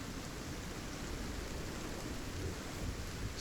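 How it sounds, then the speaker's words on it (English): Steady rain storm with a low, rolling rumble of thunder underneath, a continuous broadband wash of falling rain holding even and close throughout, with no voices. "With rolling thunder and cracking of lightning, the clouds gathered together and continue to shed rain down on the plains"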